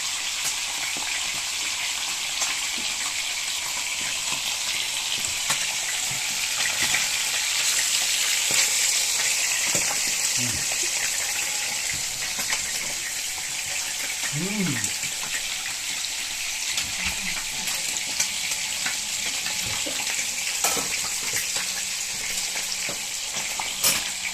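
Ginataan fish cooks in a pan with a steady, loud sizzle and frying hiss throughout, with occasional stirring clinks and faint voices underneath.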